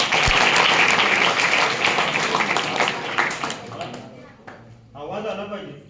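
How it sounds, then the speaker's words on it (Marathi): A group claps hands during an acting lesson at a school lecture, a dense burst of applause that starts loud and thins out, followed by a few scattered claps and a voice speaking near the end. "याच्याचे टाळ्या वाजवा"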